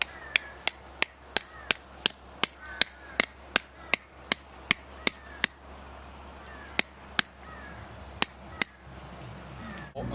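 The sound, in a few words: hammer pounding a stake into ground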